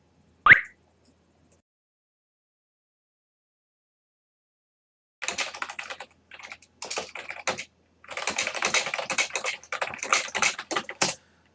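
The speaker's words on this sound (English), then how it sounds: "I shouldn't be typing during the stream, probably." Typing on a computer keyboard during a live stream: a single sharp tap, a long silence, then bursts of rapid clicking keystrokes, close and fairly loud, with no talking.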